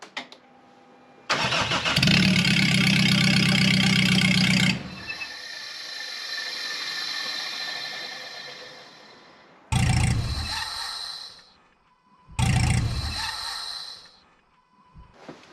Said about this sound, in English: alternator is still spinning after, and it's making a horrible noise